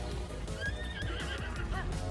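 A horse in Zelda: Tears of the Kingdom gives a clear, wavering neigh with faint hoof clip-clops underneath, moderately loud and alone.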